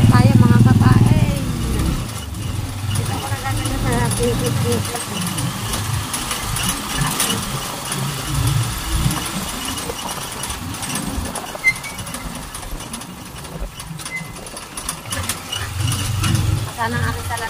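A motor tricycle engine runs steadily throughout, a mid-pitched motorized rumble with rising and falling revs while people talk over it.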